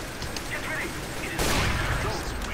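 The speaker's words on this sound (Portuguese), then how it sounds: "Nossa, a bomba explodiu" A bomb explodes in the shooter game CS:GO, a sudden loud broadband blast that cuts in midway through a steady wash of game noise and keeps rumbling to the end.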